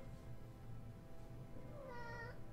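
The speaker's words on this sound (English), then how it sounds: "Meow." A cat meows once inside the Might and Magic VI role-playing game, a short, faint rising-and-falling cry over a low steady background hum.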